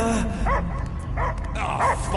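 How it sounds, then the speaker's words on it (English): A dog in Guardians of the Galaxy gives several loud, close barks and yips in short bursts, with brief whimpering gaps between them. "I hear only barking"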